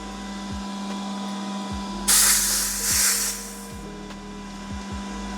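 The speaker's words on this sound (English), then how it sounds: "we will need to open the bleed valve by turning counterclockwise" Bleed valve on a ToAuto A1X PRO PCP compressor releasing pressurized air from the line, a loud hiss lasting under two seconds that bursts in and tapers off over a humming motor with rhythmic low thumps.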